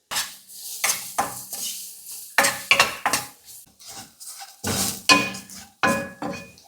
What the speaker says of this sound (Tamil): பூண்டு வறுக்கிறதுக்கு பார்த்திங்கன்னா 1 ஸ்பூன் நல்லெண்ணெய் விட்டுட்டுங்க